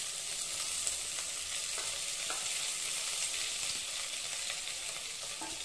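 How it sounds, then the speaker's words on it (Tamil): Onions fry with coriander, mint and curry leaves for a mutton biryani made in a pressure cooker, a steady close sizzle with faint crackles and occasional stirring, no one speaking. "இப்போ இதை நல்லா வந்து வணக்கிக்கலாம்."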